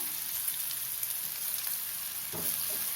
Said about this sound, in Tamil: கடுகு பொறிஞ்சிடுது வெங்காயம் சேர்த்துக்கலாம்